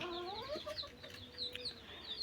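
Native chicken chicks cheep and cluck softly nearby in a quick irregular series of short chirps, faint and without talking.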